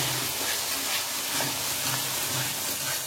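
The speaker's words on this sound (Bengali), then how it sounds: "একসঙ্গে অল্প এখন খুব ভালো করে মশলাটা কষাবো।" Chili powder, cumin and coriander frying in hot oil for Bengali chicken kosha: a steady, close sizzle and hiss with faint stirring and no pauses.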